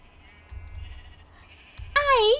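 A sheep bleats loudly in Minecraft near the end, after soft thumps and quiet sounds of play.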